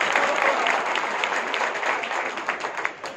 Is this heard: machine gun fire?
no